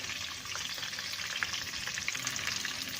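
Prawn spring rolls fry in hot oil with a steady, dense crackling sizzle that holds at an even level throughout, close and continuous with no voices.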